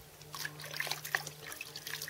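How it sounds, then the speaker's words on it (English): Squirrel rawhide is lowered into a tub of water, making faint trickling and dripping sounds with small splashes, soft and close, with a low steady hum underneath and no speech. "we're just going to take this and put it in a tub of water"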